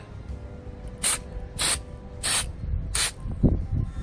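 Four short bursts of Molly Dry marking spray from an aerosol can, applied as a second coat on stainless steel, each hiss about half a second long and close, evenly spaced, followed by faint handling clunks.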